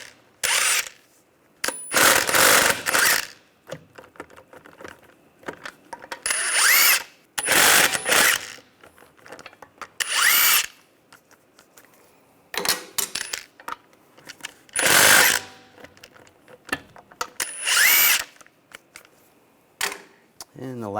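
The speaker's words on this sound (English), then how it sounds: "use a 19mm socket, take the lug nuts off." A ratchet fitted with a 19mm socket spins lug nuts off a Jeep Cherokee wheel, in repeated bursts of loud, close rapid clicking with short pauses between nuts and occasional talk.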